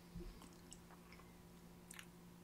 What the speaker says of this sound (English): Because chewing rice just keeps chewing and chewing and chewing and chewing.